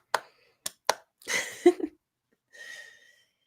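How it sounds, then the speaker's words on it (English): Three sharp hand claps in quick succession ring out close and alone, followed by a brief rustling burst and a soft hiss. "Gotta have the claps."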